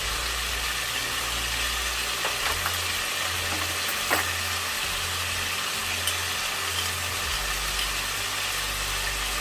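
Garlic mixed with ginger sizzles in a hot pan, a dense continuous frying hiss over a low steady hum, with a few faint clicks.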